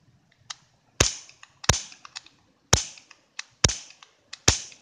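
Daisy Powerline 426 air pistol firing at targets, a series of sharp, loud snapping shots spaced irregularly, with small clicks and rattles between them.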